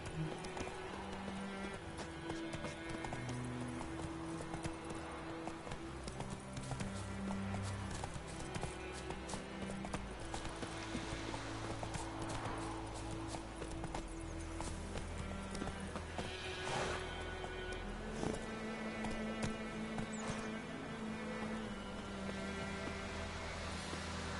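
Hooves clip-clop steadily in a running rhythm, layered over a continuous game-style music bed, with occasional brief voice sounds.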